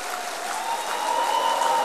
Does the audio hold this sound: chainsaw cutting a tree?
no